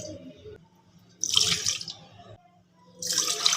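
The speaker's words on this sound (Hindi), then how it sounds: "घी डालते हैं देगची में।" Ghee poured into a cooking pot (degchi) in a home kitchen, heard as two close, splashy bursts of liquid with a quieter pause between them and no talking.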